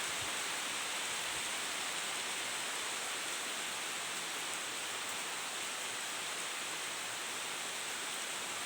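Heavy midday rain with wind pours down in a dense, unbroken hiss that stays even and loud from start to finish, with no voices.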